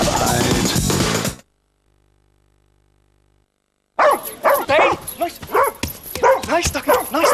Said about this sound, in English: Nice doggy, nice doggy, nice doggy. Stay.